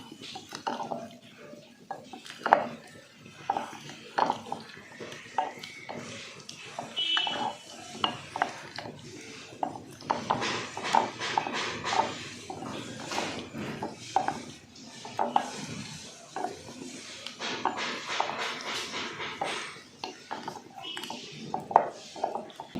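Spoon scraping and clinking against a bowl while garam masala, turmeric and asafoetida powder are mixed with ingredients for dhaba-style dum aloo, in irregular close taps and scrapes under a speaking voice.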